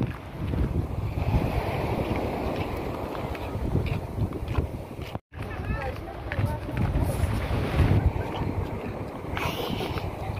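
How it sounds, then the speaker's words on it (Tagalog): Strong wind buffets the microphone at a beach in front of a seaside house, a continuous loud roar with surf-like rushing throughout, a brief dropout midway, and voices mixed faintly into the noise. "Mahangin naman eh."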